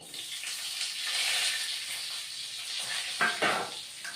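Fried potatoes and eggplant sizzling in a hot pan for a vegetarian methi shak dish, with a steady hissing fry and a couple of sharper clatters near the end.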